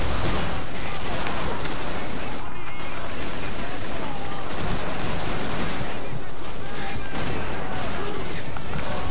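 Continuous Call of Duty 2 combat gunfire, a dense loud wash of overlapping rifle and machine-gun shots with a brief lull near the middle.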